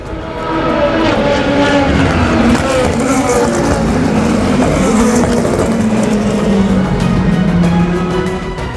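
A race car at Le Mans roars loudly and close, with a strong engine howl that rises and falls in pitch through gear changes and fills the whole stretch.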